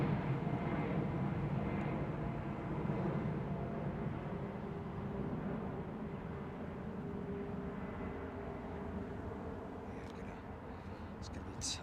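Kenya Airways airliner taxiing along a taxiway at London Heathrow, a steady low engine rumble and whine held at moderate distance for the whole stretch, with voices murmuring underneath.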